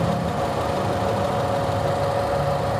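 A 2009 Nissan Serena Highway Star engine idles with the hood open, a steady, close mechanical hum and rumble that holds constant throughout.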